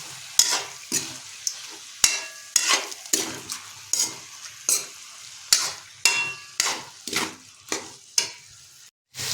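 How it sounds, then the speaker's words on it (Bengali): A ladle scrapes and stirs onions frying in a pan for chicken kosha, regular rhythmic strokes roughly every half second over a steady sizzle, close and clear with no talking. "তাই এটাকে আমরা হাতা দিয়ে আরও মিনিট 2 ভালোভাবে নাড়িয়ে নেব।"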